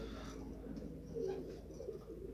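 Armavir fighting pigeons coo softly, low and muffled against a steady outdoor rumble, rising briefly in a murmur of throaty calls.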